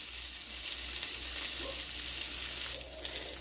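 Smoked beef sausages sizzling on a grill, a continuous crackling fry with light spattering and occasional stirring scrapes, steady and close with no talking.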